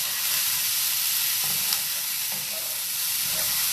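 Capsicum and onion frying in a pan give a continuous loud hiss and sizzle, with a few faint clatters from tossing.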